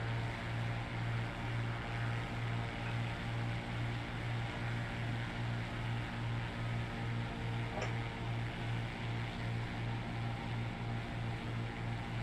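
Cessna 185 propeller engine droning steadily in a flight simulator game, a constant low hum with a pulsing rhythm and no speech, holding at an even level throughout.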